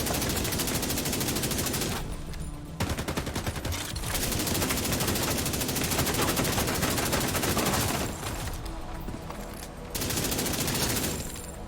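Sustained gunfire from weapons in The Division 2, dense bursts of rapid automatic shots filling the scene, broken by two brief lulls before the shooting resumes loudly.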